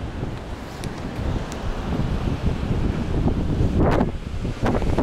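Strong wind buffets the microphone at a stormy sea shore in Alanya, with surf rolling in underneath as a steady, loud roar that swells in gusts toward the end.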